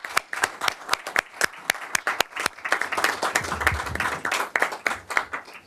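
Applause for students at a school board meeting in a hall, starting as sparse distinct claps and swelling into a fuller, steady round of clapping from the audience.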